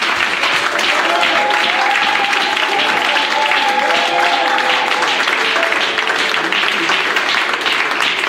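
Church congregation clapping and cheering during a Sunday worship service, a steady dense wash of applause for the full stretch with voices faintly mixed in.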